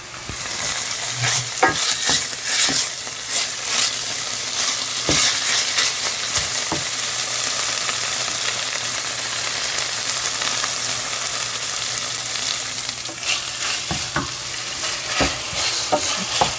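Steady, loud sizzling of plant-based ground meat frying in oil, with occasional scrapes and clicks of a utensil stirring the pan.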